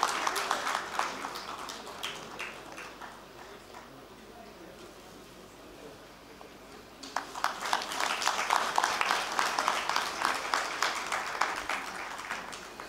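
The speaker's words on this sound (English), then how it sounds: "Please give him a round of applause" Audience at an international conference on resilient infrastructure in Nepal applauds in two bursts: scattered clapping at first that thins out, then a fuller, denser round of hands after a quiet pause, heard from some distance.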